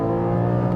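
The naturally aspirated 4.0-litre flat-six of a Porsche 718 GTS screams at high revs near its 7,800 rpm limiter, a loud, steady, tonal engine wail heard from inside the car for under a second, with no voices.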